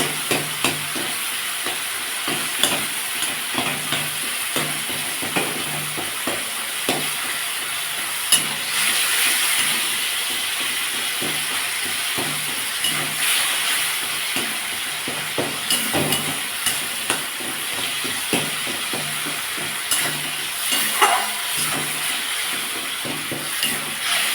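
Vegetable khichuri mixture with winter vegetables is stirred and sautéed in a pan, giving a steady close sizzle and hiss with frequent scraping stir strokes throughout, and no voices.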